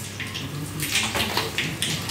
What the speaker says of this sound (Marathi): आता गॅस बंद केला, मस्त तडतडत आहे कारण तेल चांगलं पडत तापलेलं आहे.